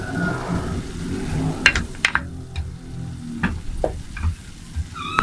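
Chopped onion frying and being stirred in a pan for a masala: a steady close sizzle under repeated scraping stirs and a few sharp utensil knocks against the pan, without speech.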